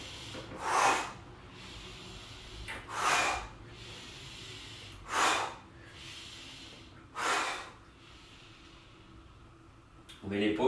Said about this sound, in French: On inspire et on souffle.